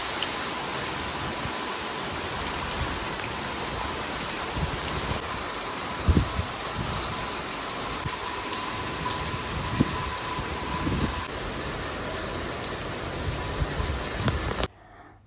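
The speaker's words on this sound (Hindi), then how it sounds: "फिर यहाँ पे बारिश शुरू हो गई थी बहुत तेज। बारिश तो ख़त्म ही नहीं हो रही है" Heavy monsoon rain pours steadily in Delhi, a dense, unbroken hiss with scattered closer drips and splashes, continuing for the whole stretch before cutting off abruptly at the end.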